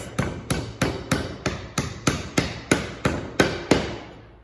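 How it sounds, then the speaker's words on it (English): Light hammer taps drive wooden dominoes into timber through a scrap piece of timber, about a dozen crisp, evenly spaced knocks, close and clear with nothing else heard. "Those light taps are important to get those dominoes in."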